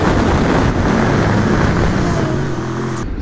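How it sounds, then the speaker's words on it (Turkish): Strong wind roars into the microphone while a motorcycle rides slowly near the Marmara Sea coast. The buffeting is loud and constant with a low rumble underneath, and no voices are heard. "Çok fazla rüzgar var."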